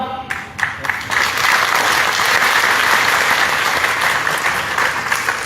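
Audience applause at a spiritual discourse, a dense, steady wash of clapping from a large crowd that starts after a brief onset and holds loud throughout.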